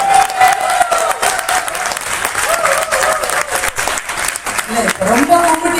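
An audience applauds at a 25th anniversary celebration, with dense sustained clapping filling the room and a voice speaking over it near the end.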